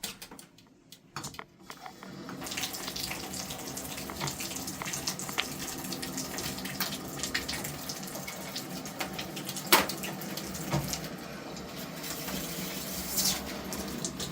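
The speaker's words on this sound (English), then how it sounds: "So if I turn on the water," Water rushes steadily through a new replacement shower hose after a short quiet start, a continuous hiss and splash from a faucet-fed shower running alone with a few clatters near the middle.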